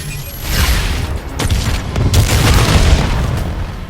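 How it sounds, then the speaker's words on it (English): A massive self-destruct detonation in Call of Duty: Infinite Warfare, a deep booming blast followed by rolling rumbles and crackling secondary bursts that swell and linger, loud and close for several seconds. "The detonation will ignite the fusion and blow the mooring."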